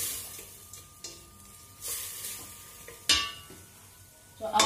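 Crayfish stirred in a cooking pot for veg coconut rice, a few separate scrapes and clinks of a spoon against the pot, close by with a faint sizzle between the strokes.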